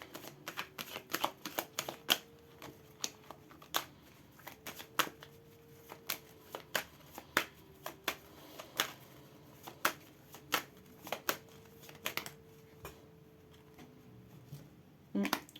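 An Oracle des miroirs deck of oracle cards is shuffled close by, with sharp card snaps and riffles at an irregular, unhurried pace over a faint steady hum, and no talking.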